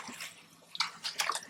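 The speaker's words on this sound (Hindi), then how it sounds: "इसमें 1 गिलास हम डालेंगे पानी" Water poured into a pressure cooker holding potatoes, fenugreek and spinach, giving a few soft splashing and sloshing bursts, fairly close and quiet, with no talking.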